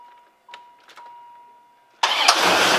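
A C4 Corvette with a freshly replaced battery cranks and fires up, a few faint clicks and a tone first, then the engine catches with a sudden loud, broadband roar that holds steady to the end.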